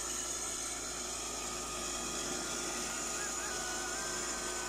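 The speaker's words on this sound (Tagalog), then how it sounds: "Umandar na yung makina natin." A water pump motor drawing water from a tank and sending it about 35 meters up through a hose, running as a steady, continuous hum the whole time with no break.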